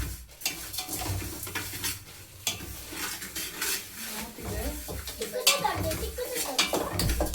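About 250 grams of cloves dry-roast in a pan for homemade garam masala, with uneven scraping of a stirring spoon against the metal and scattered soft crackles, near and fairly quiet.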